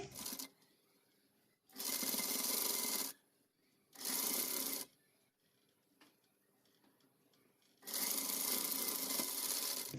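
A sewing machine stitching a child's Pathani kurta sleeve, running in three loud, close bursts of steady whirring separated by quiet pauses with faint handling noise.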